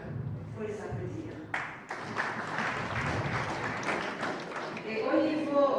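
Audience applause at a media awards ceremony honouring Burundian journalists swells into a sustained clatter of clapping for several seconds, with a voice speaking over it.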